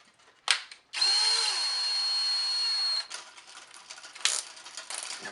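A cordless power drill whirs for about two seconds at high speed, twisting doubled-over chain link fence wire, with short clicks and metallic handling noises before and after the run.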